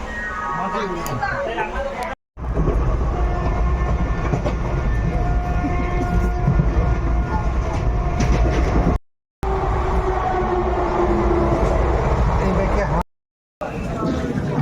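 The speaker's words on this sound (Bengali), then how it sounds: "আমরা ট্রেনে উঠে পড়েছি।" Steady rumble and rhythmic clatter of a moving Howrah–Chakradharpur Express train, loud and close throughout, with brief cuts and faint voices in the background.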